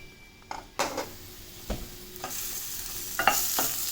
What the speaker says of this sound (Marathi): हा मसाला आपल्याला भाजून घ्यायचा आहे पै पहिल्यांदा आपल्याला आता कांदा घालायचा